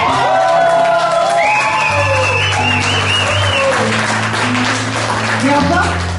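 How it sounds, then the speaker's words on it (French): A concert audience at a hotel venue in Strasbourg claps and cheers loudly for the guitarist, with whoops over sustained applause while a singer's voice and lingering instrument tones carry underneath. "s'il vous plaît, un tonne d'applaudissements pour lui"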